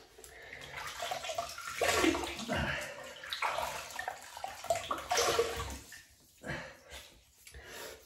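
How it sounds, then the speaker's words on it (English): Water splashes as a face is rinsed during shaving, faint uneven swishing and dribbling bursts close by in a quiet room. "So we'll rinse the face."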